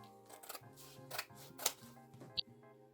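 Scissors snipping through fabric pieces for a Vivienne Westwood-inspired corset, a few quiet, close crisp cuts with soft rustling in between.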